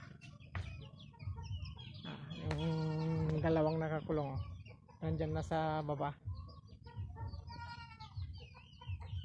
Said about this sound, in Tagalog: aking mga manok